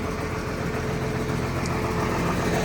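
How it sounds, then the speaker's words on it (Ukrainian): A diesel farm tractor idles nearby, its engine giving a steady, even rumble with a constant loudness throughout and no talk over it. "працює на холостих, оце отака його робота."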